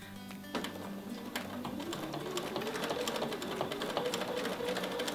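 Sewing machine running steadily for ruler quilting along a wavy line, a dense even stitching hum with quick rapid needle clatter throughout, close and fairly loud with no talk.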